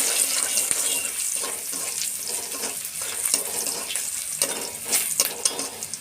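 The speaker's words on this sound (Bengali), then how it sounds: "কুচনো কাঁচা লঙ্কা, কাঁচা লঙ্কাটা ফাটিয়ে একটু হলুদ দিলাম।" Chopped green chillies and turmeric frying in a pan for aloo paratha filling: a steady, close, bright sizzle with faint stirring scrapes throughout.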